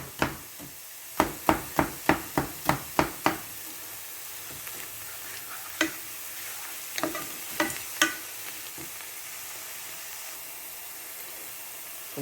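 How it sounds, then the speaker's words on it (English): Seasonings sautéing in a pan for red beans with ham, a faint steady sizzle punctuated by a quick run of sharp spoon knocks against the pan, then a few scattered taps, without speech. "my seasonings are already sauteed down"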